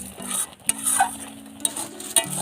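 A thick kheer filling for patisapta, with cashews, raisins and cardamom, is stirred in a pan: a spoon scrapes and knocks against the metal in uneven strokes over a steady low simmer.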